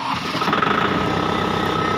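A Kubota MU 5501 tractor engine runs close by after starting, with a loud, steady, even diesel chugging throughout.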